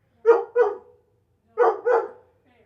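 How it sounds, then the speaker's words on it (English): A dog barks twice, pauses, then barks twice more: four loud, close, sharp woofs in pairs against silence. "Sorry about the barking again."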